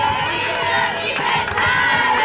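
A crowd at a birthday party shouting together in loud unison, a brief energetic burst of many voices with children among them.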